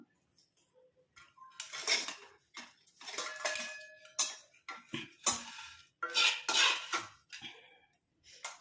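Kitchen utensils clink and scrape against a bowl while a herbal hair dye mixture is strained, giving a series of close, irregular metallic taps and rattles in bursts with short pauses, no voices.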